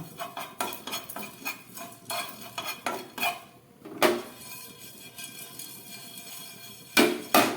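Whole spices (two cardamom pods, two cloves, a little cinnamon and five or six peppercorns) being lightly dry-roasted in a pan, a spatula scraping and clinking against the metal in irregular, close strokes, with no talking.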